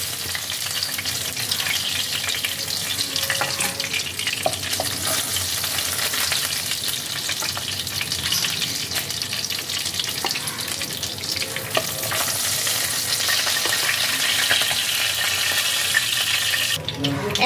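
Pabda fish fry in oil in a pan with a loud, continuous sizzle and crackle, dense and unbroken throughout, with faint stirring or turning and no speech.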